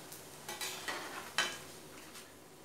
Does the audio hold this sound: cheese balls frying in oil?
yes